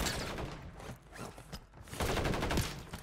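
Bursts of rapid gunfire crackle through a Call of Duty Warzone (MW3) match, dense and close with short pauses and louder volleys toward the end, over a steady background of game noise.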